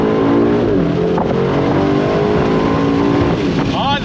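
A 2024 Aston Martin DB12 Volante convertible accelerates hard on throttle, its engine a loud, sustained roar that climbs steadily in pitch, heard up close from the cabin with the top down and a voice speaking over it.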